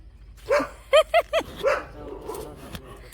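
A household dog that has just eaten uncooked rice gives about five short, sharp barks in quick succession, fairly close, followed by quieter indoor background noise.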